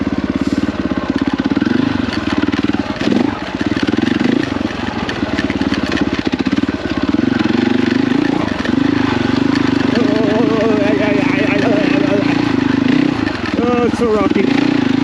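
A KTM motorcycle engine drones loudly and continuously while riding rocky single-track trail, its pitch wavering with throttle, and a rider talks over it.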